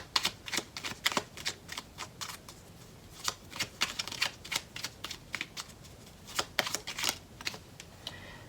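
Tarot cards are shuffled by hand, giving a rapid series of crisp riffling flicks and taps, close and steady throughout with short pauses between bursts.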